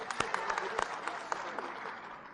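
An audience at a conference in Peshawar, Pakistan, bursts into sustained applause, a dense, fairly distant clatter of many hands with a few sharper claps standing out.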